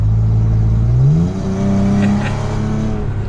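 A third-generation Toyota Tacoma with an MBRP exhaust accelerates hard, its loud, deep engine note rising in pitch, shifting, and climbing again, recorded close from inside the cab with the back glass open.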